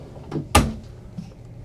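A laundry drawer in a 2026 Jayco Eagle 335LSTS RV opens or closes with a soft slide followed by a single sharp thump, close and brief, in a quiet interior.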